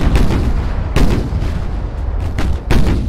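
Torpedo hits and shell explosions in the naval warfare game Ultimate Admiral Dreadnoughts, heavy booms landing one after another over a continuous low rumble of battle, loud and close.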